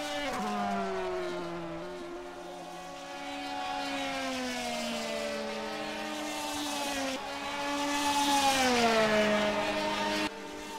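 An IndyCar engine in a racing video game at a Slovakiaring race drones with a high, buzzy whine that rises and dips as the throttle is feathered on and off, steady and close throughout, with no talking.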